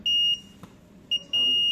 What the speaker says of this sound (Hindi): अगर ये बीप आ रही है तो इसका मतलब ये ठीक है